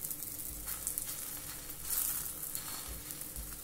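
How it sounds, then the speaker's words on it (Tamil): Aloo paratha sizzling on an oiled tawa, a steady close hiss and crackle with a few brief surges and low bumps. "பாருங்கள் இப்போ பராத்தாவை தவாவில் போடுறேன்."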